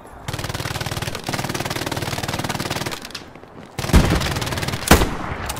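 Loud, close machine-gun fire in Hell Let Loose hammers out in long, fast, even bursts, broken by short pauses, with a few heavier single shots near the end.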